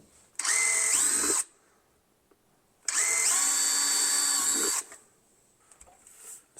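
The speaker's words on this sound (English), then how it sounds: "And we'll get a drill and a razor knife." A power drill bores holes during fuel cell installation in a NASCAR Toyota Supra race car build: two close, loud whining bursts, the first about a second long and the second about two, separated by a quiet gap.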